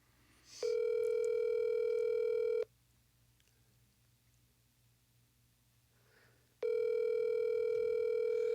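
An outgoing phone call ringing out: two long, loud steady ring tones, each about two seconds, separated by roughly four seconds of near silence, with no voices.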